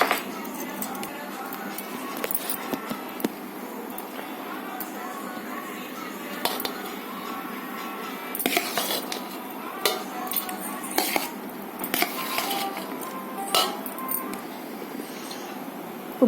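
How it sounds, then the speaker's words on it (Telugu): A spoon scrapes and clinks against a metal vessel while mango rice is stirred into hot cooked rice, a steady busy clatter with occasional sharper knocks. "వేడి వేడి అన్నంలో కలుపుతున్నానండి."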